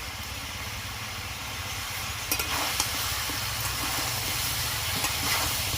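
Chopped green chili and tomato go into onion, ginger and garlic paste in a pan of mutton curry, producing a loud continuous sizzle and steamy hiss with a few scraping clinks from a stirring spoon.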